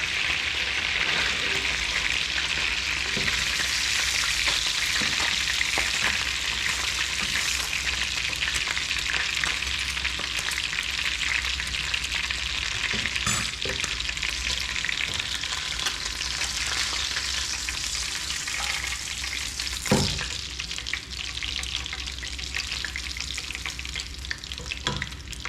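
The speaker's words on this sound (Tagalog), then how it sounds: "So ito yung na-prito nating tuna mga ka-rider." Tuna sizzles steadily in a frying pan for a sarciado dish, a dense, even crackle of hot oil with occasional sharper pops, close and continuous with no one talking.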